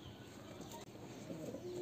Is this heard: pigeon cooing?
yes